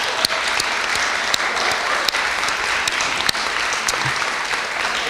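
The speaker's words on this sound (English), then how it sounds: "Round of applause, please, to our candidates." Sustained audience applause for student election candidates at a question-time event, an even wash of clapping with a few sharp louder claps standing out.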